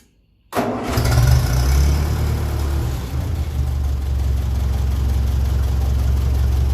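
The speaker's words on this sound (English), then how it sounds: "So it's been running there for about 2 minutes, so we'll probably start up without any choke now." A small engine on SAE 30 mineral oil, already warmed for about two minutes, is started without choke: a sudden catch into a loud, steady idle that holds evenly to the end, with no talking.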